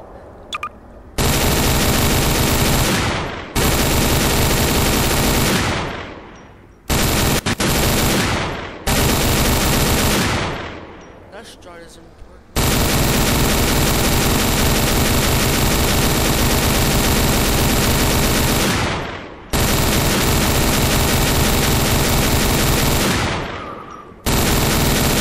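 A weapon in Garry's Mod fires in long, sustained automatic bursts, loud and close, broken by a few short pauses.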